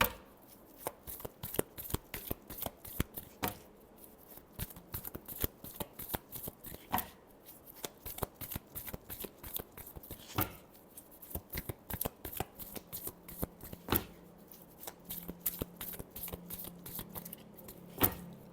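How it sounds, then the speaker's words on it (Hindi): Tarot cards being shuffled by hand in a steady run of crisp riffling slaps and flutters, close and fairly quiet, continuing for a long stretch with no talking. "Last shuffle."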